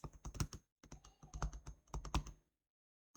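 Fingers tapping out a file name on a computer keyboard, quick irregular clusters of close, crisp keystrokes with short pauses, then quiet.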